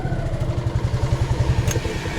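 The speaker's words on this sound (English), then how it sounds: "if you give it a little gas, it will start right away" Small carburetor tuk-tuk engine running steadily after starting, a close, even, rapid putter with a slightly clattery idle, no talking.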